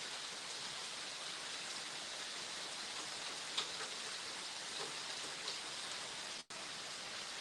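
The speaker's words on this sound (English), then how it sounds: "If anybody was watching, you can see it's raining here." Steady hiss of rain falling, even and continuous, with a couple of faint ticks and a brief dropout near the end.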